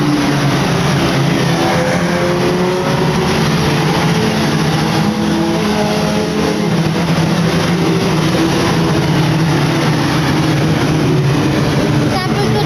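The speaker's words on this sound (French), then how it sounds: "le safety car qui attend tranquillement les voitures" Race cars in a touring car event drive slowly in a pack behind the safety car, a steady, loud drone of engines that persists unbroken throughout, with talk running over it.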